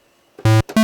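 Square waveform from a Roland SH-09 analog synthesizer: two short, loud, hollow-toned notes, a low one followed by a higher one, after a quiet lead-in.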